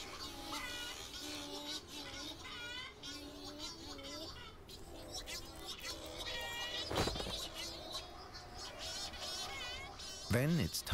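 Shearwaters call back and forth at a breeding colony in the Canary Islands, a chorus of wavering, bleating cries overlapping near and far, with a louder burst toward the end.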